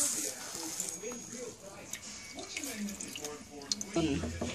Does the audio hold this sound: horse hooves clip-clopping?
no